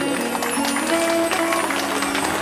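Loud, steady applause from a large audience at a Shrimad Bhagwat Katha religious gathering in Katni, Madhya Pradesh, a dense wash of clapping filling the whole stretch with constant energy.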